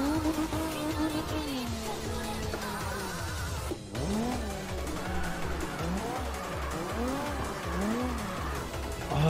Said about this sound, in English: Because we drifting near the gas station, man.